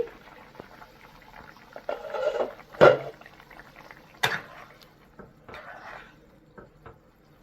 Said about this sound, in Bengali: আমি 4 থেকে 5 মিনিট ভালো করে ঝোলটা ফুটিয়ে নেব।